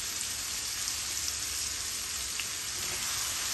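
Onions sizzling steadily in hot oil in a pan for a king prawn curry, a dense, even crackle that holds at moderate level from start to finish with no voices.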